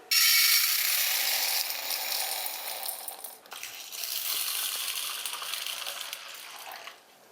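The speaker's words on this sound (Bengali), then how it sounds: "ভালো করে ডালটা আমি রগড়িয়ে ধুয়ে নিচ্ছি।" Toor dal lentils are rubbed and rinsed by hand in water, giving a steady wet gritty scrubbing and swishing that dips briefly midway and then resumes.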